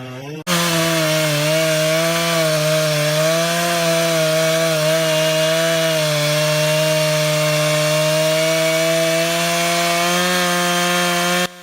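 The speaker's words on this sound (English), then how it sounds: "The chainsaw growls to life, revving, biting." Chainsaw cutting through a massive log, a loud, continuous, high-revving buzz that holds steady pitch with slight wavering for the whole stretch, close and alone.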